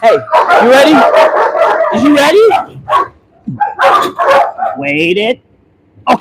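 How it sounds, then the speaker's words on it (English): Dogs bark and yip repeatedly during bite work training while someone speaks loudly over them, the barking mixing with his voice before a brief quiet gap near the end. "I don't know if you guys can hear me over all of this, the dogs barking"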